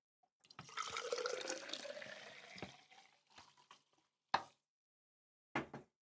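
Sparkling water poured into a glass, a steady fizzing, splashing stream lasting a couple of seconds, followed by a few short, sharp clinks and knocks separated by silence.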